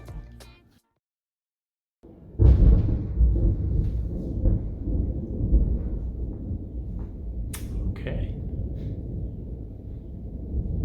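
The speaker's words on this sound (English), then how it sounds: "Longest thunder ever." Thunder at an outdoor setting, a long low rumble that rises after a brief silence and rolls on steadily for several seconds, loud and sustained with a few faint higher clicks over it.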